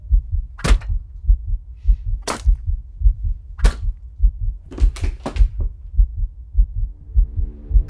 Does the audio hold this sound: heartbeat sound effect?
yes